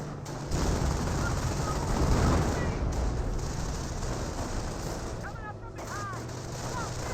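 Battle noise from a Company of Heroes 1 match in which US Rangers fire rifles and bazookas: a dense, continuous roar of gunfire and blasts that fills the whole stretch and stays loud throughout.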